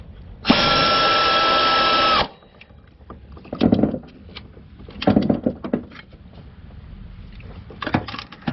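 A cordless power drill drives bolts on a GM 3800 3.8L V6 while the coolant bypass elbow is being replaced, one loud, steady whir of about two seconds, then clanks and handling noises from tools and parts nearby.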